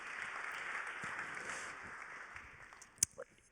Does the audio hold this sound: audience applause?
yes